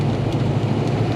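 Steady rain falls continuously, a dense, even wash of hiss with a low rumble underneath and no voices.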